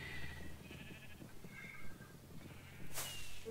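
A few short, soft bleats from sheep in a Minecraft-style video game sound over a low background hum, with a brief bright rustle near the end.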